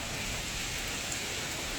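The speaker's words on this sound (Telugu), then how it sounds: "చూడండి అసలు ఘోరమైన వర్షం" Heavy rain pours at night in Hyderabad, a dense, even hiss of drops hitting surfaces with no breaks, steady and fairly near throughout.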